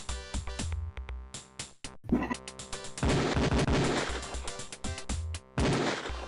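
Beretta pistol fire on a shooting range in Police Quest 4, a rapid run of sharp, loud shots in clusters with short gaps, mixed with music.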